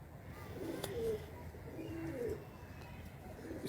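Top-class high flyer pigeons give a few soft, faint coos over a low background rumble.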